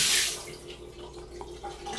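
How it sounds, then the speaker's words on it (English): Shower water runs steadily in a New Orleans Courtyard hotel room bathroom, a continuous broadband hiss with a loud burst at the start that settles into a constant close spray, with no talking. "when you turn the water on"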